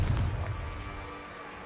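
A fiery Confringo spell explosion in Hogwarts Legacy, one deep booming blast that starts loud and fades into a rumbling tail.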